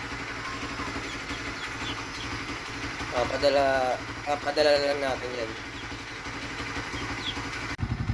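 A motorcycle engine idles with a low, steady throb throughout, while someone talks close by over it.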